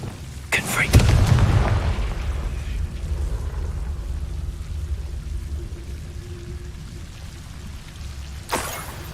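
A Confringo fire spell blasts in Hogwarts Legacy: one loud, booming burst up front, followed by a long low rumbling tail and a smaller crack near the end.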